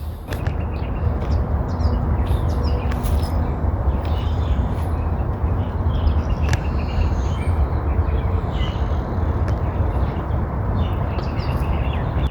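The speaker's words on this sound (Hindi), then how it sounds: "चिड़ियों की आवाज़ें आ रही हैं।" Birds chirp in a date palm garden in Medina, with scattered short tweets over a steady outdoor background hum.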